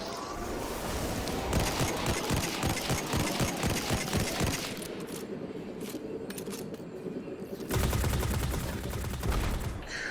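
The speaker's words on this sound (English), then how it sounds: "I'm trying to shoot the gun cannons down" Rapid gunfire from a Destiny 2 firefight aimed at enemy gun cannons, a dense rattling stream of shots with a heavier burst near the end and no talking.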